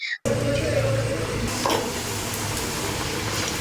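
Continuous loud sizzling and crackling of luchi frying in hot oil, steady throughout after a brief pause at the start.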